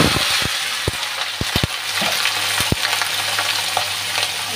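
Green chillies fry in a wok alongside dry red chillies, a loud continuous sizzle punctuated by sharp metallic clicks and taps of a spatula against the pan.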